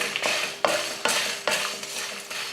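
Kashmiri chillies, chana dal, urad dal and coriander seeds are dry roasted in a kadai, with a spatula scraping and tossing them in regular rhythmic strokes, close and dry-sounding.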